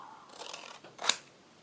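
Scissors snip a piece off a sheet of paper during a nature-inspired tag craft: a soft sliding rasp, then one crisp, close cut.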